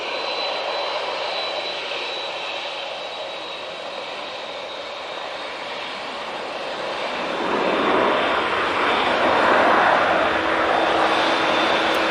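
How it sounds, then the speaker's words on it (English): Virgin Atlantic airliner landing at Manchester Airport, a steady broad engine roar heard from outside that swells louder toward the end as the jet passes closer, with no talking. "Virgin Atlantic landing."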